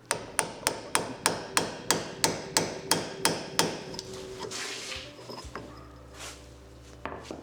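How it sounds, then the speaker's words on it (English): A hammer strikes a socket to drive out a rear wheel bearing, about a dozen sharp metallic blows in a steady fast rhythm, close and loud, followed by a few seconds of quieter shuffling and a final knock. "I'm just gonna hit differently on this socket."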